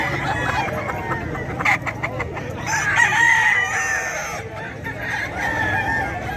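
Chickens and roosters at the Bocaue pet market in the Philippines, several crowing and clucking near and far in a busy outdoor setting, with background chatter and market noise throughout.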